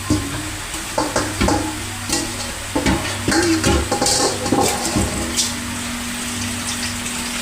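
Pork sizzling loudly in a hot pan while being stirred, with crackling spatters, scraping strokes and a constant frying hiss, close and with no talk.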